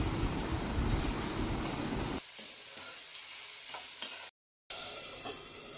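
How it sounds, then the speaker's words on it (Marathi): Onion and tomato cook on low gas for biryani, giving a close, steady sizzle. It is loud at first, then drops to a faint hiss, with a brief silent gap near the end. "बारीक गॅसवर मी शिजत ठेवलं आहे"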